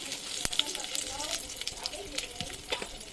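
Crackling, popping sizzle of mustard seeds frying in hot oil, quiet and close, with scattered sharp pops over a steady hiss.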